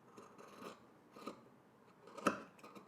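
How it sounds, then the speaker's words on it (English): Scissors snip through fabric seam allowance close to a sewn stitch, giving a few short, close cutting crunches spaced apart, the last one sharp and loud, with quiet room noise between them. "now I'm going to go ahead and trim, but I'm gonna start closer to the stitch and then make my way out"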